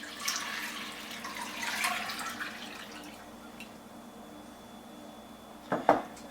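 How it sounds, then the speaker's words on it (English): Water is poured from a cup into a cooking pot holding two cups of dry split peas for yellow daal, a close splashing trickle that fades out, followed by a couple of light clinks near the end. "Just dump the water in here."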